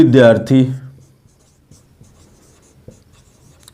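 A marker or chalk writes on a board during a maths lesson: after a brief spoken phrase, faint scattered taps and scratches follow in near silence.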